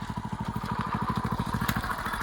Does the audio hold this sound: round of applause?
no